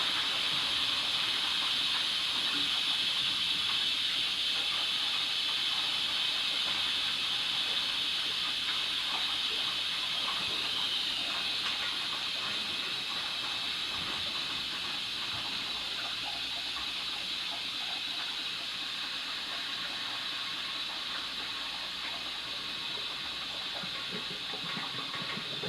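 CO2 gas forcing Star San sanitizer through a corny keg during sanitizing, a steady loud hiss with rushing liquid that runs unbroken for the whole stretch with no talk.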